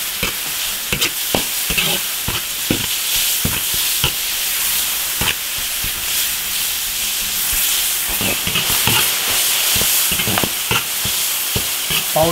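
Lamb tripe stir-fried hard in an iron wok with cooking wine and soy sauce, a loud continuous sizzle and hiss with frequent sharp clacks of the spatula against the wok, close and without talk.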